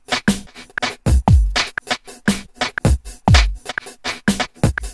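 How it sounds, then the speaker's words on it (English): Kick and snare drum beat quantized to 120 BPM layered over a delay beat chopped into eighth notes by a tremolo effect, with punchy low thumps and bright crisp hits repeating in a steady, slightly stuttering rhythm. "If I add a kick and snare that are quantized to 120 and play that at the same time as our delay beat with the tremolator on it"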